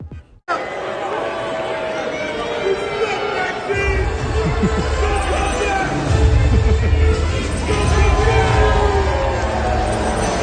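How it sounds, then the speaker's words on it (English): A large arena crowd at a wrestling event loudly booing and jeering Maxxine Dupri, a dense sustained roar that swells louder midway and stays heavy to the end, with babble throughout. "she got absolutely booed out of the building"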